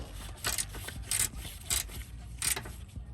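A transmission mount bolt being tightened on a Chrysler Sebring, giving four short rasping ratchet-like bursts at a steady pace, fairly close and moderately quiet, with no talking.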